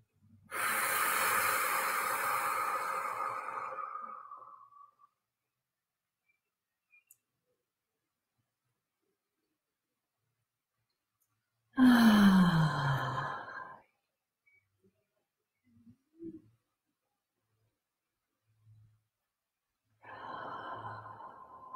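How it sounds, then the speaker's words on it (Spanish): Slow, deep breaths drawn in through the nose and let out through the mouth, three long, close airy exhales separated by quiet pauses, with a faint sniff between them. "Y que tomen tres respiraciones profundas, inspirando por la nariz"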